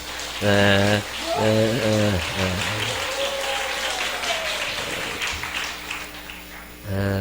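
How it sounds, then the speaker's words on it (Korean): Sustained applause from a church congregation during a Sunday morning service, dense and steady, with held musical tones sounding at the beginning and again near the end. "큰 박수 한번 해주시기 바랍니다"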